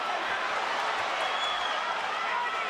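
Boxing arena crowd at a Manny Pacquiao versus Miguel Cotto fight, a steady dense roar of many voices with scattered clapping, loud and continuous throughout without clear breaks.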